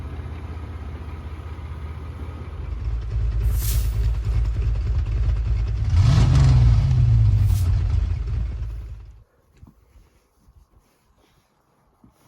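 GMC Jimmy truck engine working while snow plowing: a steady low rumbling idle that swells into a louder rev midway, then cuts off abruptly, leaving near silence with faint ticks.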